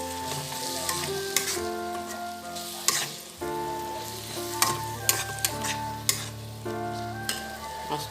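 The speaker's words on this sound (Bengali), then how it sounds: "এবার এটাকে নাড়বো।" Onion, ginger and garlic paste fries in a pan and is stirred. A continuous close sizzle runs throughout, broken by sharp, repeated scrapes and knocks of a spatula against the pan, with no talking.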